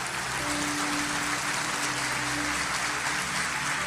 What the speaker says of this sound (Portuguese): Se você vai aplaudir a Jesus, faça até as mãos aquecerem.